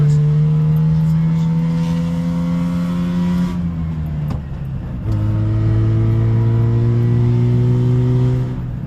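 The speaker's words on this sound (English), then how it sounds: "It's fun to rip a Subaru 360 in the fall colors." A Subaru 360 two-stroke microcar drives uphill along an autumn road, its small engine buzzing loud and steady from inside, rising in pitch, dropping briefly during a gear change, then climbing again.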